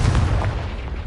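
A single loud, booming Confringo blast in Hogwarts Legacy, with a heavy low thump that fades over a second, heard alone.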